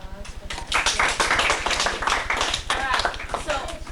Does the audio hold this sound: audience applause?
yes